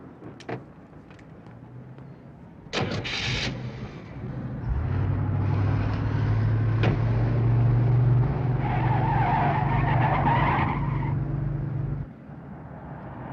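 A car skids and speeds off as a sustained loud engine roar with tyre squeal builds after a sharp impact, holds for several seconds and then cuts off abruptly.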